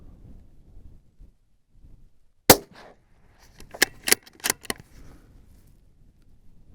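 Rifle shots fired at a steel target outdoors: one sharp crack, then after a pause a quick cluster of four or five loud shots or impacts, each short and dry against quiet wind noise.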